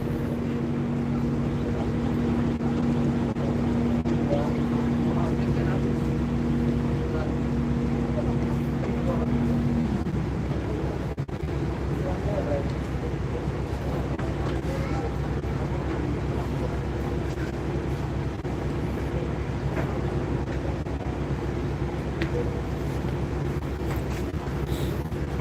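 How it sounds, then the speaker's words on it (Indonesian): The KMP Sumuk 2 car ferry pulls away from Simanindo port on Lake Toba with a continuous low engine rumble and a long steady horn-like tone early on, while people talk over it throughout. "KMP Sumuk 2 meninggalkan Pelabuhan Simanindo."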